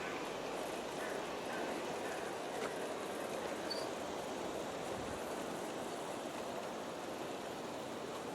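A G scale model SP Daylight train rolls past, an Aristo-Craft Smoothside observation car among heavy aluminum cars, giving a continuous broadband rumble and rushing wheel noise at moderate distance with no break.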